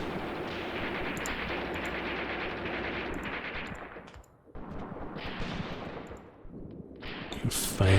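Sustained gunfire in the Graviteam Tactics video game, with dense overlapping machine-gun bursts and distant rumbling fire that dips briefly before resuming.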